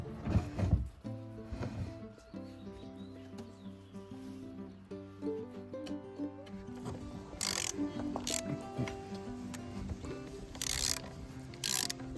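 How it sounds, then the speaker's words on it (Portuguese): Screws being driven into roof pillars for a barbecue area, a series of short whirring, ratcheting bursts from a screwdriver alongside metallic clinks and rattles, fairly close and moderate in volume. "Enquanto tá botando parafuso embaixo"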